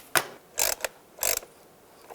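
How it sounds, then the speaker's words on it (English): A worm clamp is tightened on the electric water pump of a 2010-2015 Toyota Prius, making a few short ratcheting clicks close up that come in two main bursts. "Tighten down the worm clamp right here."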